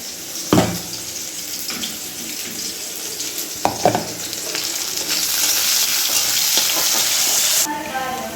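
Onion and tomato fry in a pan with a continuous sizzle, broken by a few sharp clinks of a utensil and a swell of hissing toward the end.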